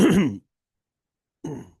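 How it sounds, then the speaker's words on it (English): Two short throat-clearing rasps, close and fairly loud, separated by about a second of silence. "I gotta clear my throat"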